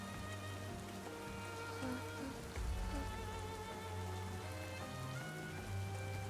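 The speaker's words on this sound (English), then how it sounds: "Rain starts to pour down from the sky." Rain pours steadily in a scene from the video game Goddess of Victory: NIKKE, a constant dense hiss of drops on the ground under low ambient tones, with no voices.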